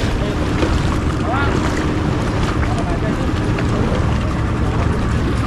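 Banana boat out on the open sea in Bali, with a constant roar of engine, wind buffeting and rushing water filling the whole stretch, loud and close, with no clear speech on top.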